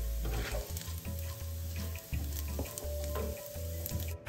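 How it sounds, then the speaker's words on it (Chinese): Diced Chinese sausage and soaked dried shrimp stir-fry over medium-low heat for radish cake, a steady close sizzle broken by the scrape of a spatula stirring, with no voices. "中低火将食材炒香，一直炒至腊肠有分解"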